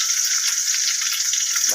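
Ginger, garlic and green chili paste fries in hot oil for an egg and cabbage curry, giving a loud, steady, close hiss of sizzling with no pauses.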